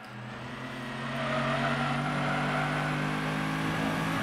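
A 1970s Can-Am race car in Gran Turismo 7 drones with a steady, loud engine note that swells after the first second and holds at high revs, with no talk over it.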